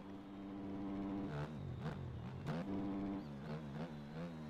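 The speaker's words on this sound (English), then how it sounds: "You can just feel the engine braking actually happen when you go back down the second gear." Dirt bike engine in MX Bikes, engine braking after a downshift into second gear, with a steady droning motor tone that wavers in pitch and gives a few sharp blips, heard close and alone.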